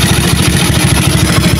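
Motorcycle engine fitted with a PWK carburetor idling after tuning, a loud, close, steady rapid chugging pulse with no voices over it.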